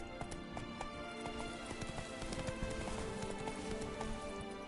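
Roach, a horse in the video game Witcher 3, gallops with a dense, steady drum of hoofbeats over a constant background wash. The hoofbeats sound fairly distant and quiet.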